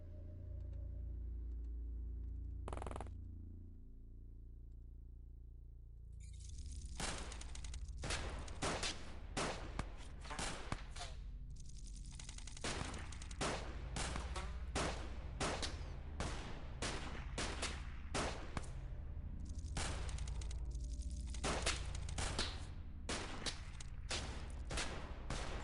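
Squad gunfire in the X-COM Files video game: a long run of sharp, rapid shots cracking out in clustered bursts over a steady low rumble, loud and close, with no talking.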